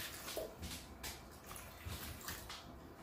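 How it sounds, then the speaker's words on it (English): Water is poured onto a small model city street to simulate rain, a faint, soft splashing and trickling with gentle irregular surges, heard alone and quietly. "we're going to go ahead and start adding in some water to simulate when it rains in our city"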